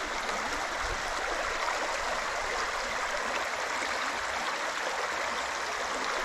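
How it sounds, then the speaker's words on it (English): Rushing stream water at a trail water crossing on the Ozark Trail in Missouri, a steady, close, broadband wash heard alone throughout. "Alrighty folks, we come to an actual water crossing."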